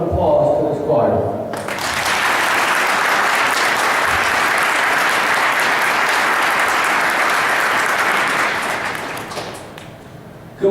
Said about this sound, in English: Let's all give a round of applause to this choir.